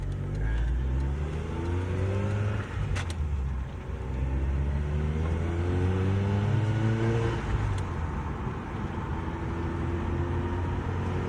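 A Mazda RX-8 with a newly installed exhaust revs steadily, its deep rumbling exhaust rising and falling in pitch through repeated throttle blips, loud and close.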